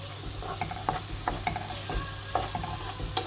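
Seasoned chickpeas and black-eyed peas stirred in a pot, with a spoon clicking and scraping against the pot in an uneven rhythm over a low, constant hum, close and with no voices.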